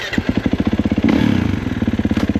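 A 2021 Kawasaki KX450 dirt bike engine chugs and revs on a rocky uphill trail, loud and close, with pulsing firing beats that rise briefly before settling back into a throbbing rhythm.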